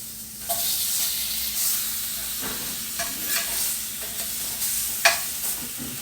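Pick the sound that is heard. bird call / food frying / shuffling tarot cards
food frying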